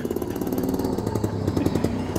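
A Bond mini car's small engine drives its front wheel by chain during a zero-radius turn, a loud, rapid, buzzing putter that chatters continuously up close.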